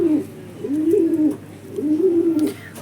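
Pigeons on a sunny rooftop give two drawn-out, rolling coos, each a low throaty swell. They are close and clear, with quiet pauses between the calls.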